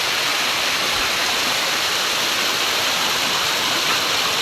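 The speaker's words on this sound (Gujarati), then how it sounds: "જો મિત્રો આવો કંઈક સરસ મજાનો વોટરફોલ આવેલો છે" Kadamgiri waterfall roars as a loud, dense, unbroken rush of falling water, heard close and steady with nothing else over it.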